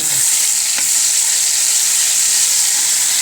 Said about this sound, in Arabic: معايا معلقه ثوم مفروم، على طول احطها كده يا دوبك اصفر كده